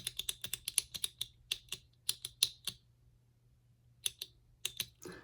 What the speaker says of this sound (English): The button's just like, the click is very satisfying